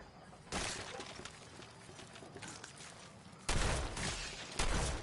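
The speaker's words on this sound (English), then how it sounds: "I just wasted so many shotgun shells right there because I was just shooting blindly" Shotgun blasts from Fallout 4 combat, a few loud broadband bursts with gaps between, the strongest late in the clip, over a busy background of game noise.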